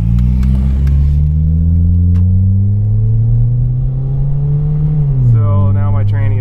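A 2004 Kia Spectra EX with a 2.0-liter engine and a worn automatic transmission drives along, its steady low engine drone and road rumble rising gently in pitch before a shift-like drop near the end.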